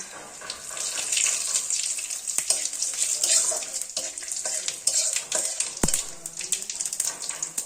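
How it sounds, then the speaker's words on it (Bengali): Whole dry red chili, cumin seeds and two bay leaves sizzling in hot oil, a bright crackling hiss with stirring clatters and one sharp utensil knock, continuous and close with no talking. "তেলটা দিয়ে এখন ফোড়নে দিয়ে দেবো একটা গোটা শুকনো লঙ্কা, আর দিয়ে দিচ্ছি গোটা জিরে, আর দিয়ে দিব 2টো তেজপাতা"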